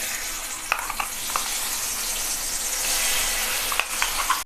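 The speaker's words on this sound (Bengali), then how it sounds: "এবার পেস্টটা ভালোভাবে তেলের সঙ্গে এইভাবে কষিয়ে নেব।" A cashew spice paste fries in oil over a low flame, giving a close, steady hiss with a few light scraping ticks from stirring.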